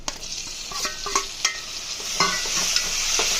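Ginger and chopped tomatoes are stirred through hot oil in a pan for egg curry, with a steady sizzle and frying hiss beneath repeated light scraping clicks of the spoon; no one speaks.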